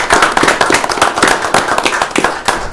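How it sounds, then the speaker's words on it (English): A city council meeting audience breaks into applause, a dense run of sharp, close claps and scattered hand taps, loud and unbroken for nearly three seconds with no voices over it. "you deserve a round of applause"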